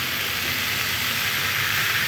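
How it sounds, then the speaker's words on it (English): Liver and onions frying in a pan outdoors at a beach, giving a steady broadband hiss of sizzling that carries on evenly for about two seconds, close and continuous with no talk. "Sizzling is like music in my ears."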